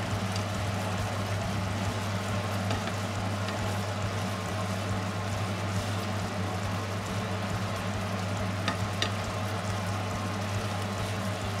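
Chopped mushrooms fry in a pan in sauce, giving a steady bubbling sizzle over a low constant hum, with a few faint scrapes of stirring, moderately loud and continuous, no voices.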